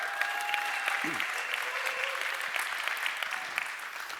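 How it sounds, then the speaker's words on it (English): Audience applause at the YMCA World Council 2022 endnote session, a sustained wash of clapping from a large crowd with faint tonal sounds briefly over it. "Yes, applause, that's good, we like that."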